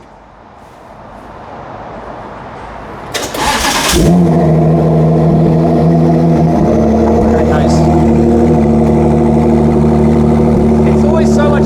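A Ford GT's engine cold-starts, cranking and roaring to life, then settles into a loud, deep, steady idle up close through an LM-style exhaust; a brief remark is spoken over it.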